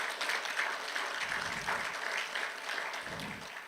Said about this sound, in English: I want to give a round of applause for the teachers